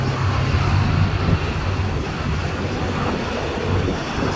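Steady cold wind buffeting the microphone in rainy weather, a constant low rumble with broadband rushing noise throughout, no voices.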